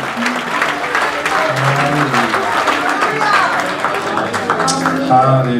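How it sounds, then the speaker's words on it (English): Church congregation clapping in praise during a Sunday service, a steady loud wash of hands under voices and singing-like tones that continue throughout. "can you give God a hand clap for praise?"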